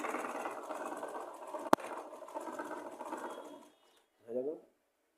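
A sewing machine runs steadily for several seconds, stitching fabric with a fast, even mechanical whir, then stops abruptly; a short click sounds partway through and a brief voice follows after it falls silent.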